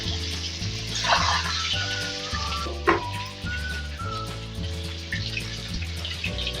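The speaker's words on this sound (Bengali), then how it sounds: "তেলটি গরম হয়ে গেছে, এবারে ডিমগুলো ছেড়ে দিচ্ছি।" Eggs drop into hot mustard oil in a wok and sizzle steadily up close, with a brief splash partway through and background music running underneath.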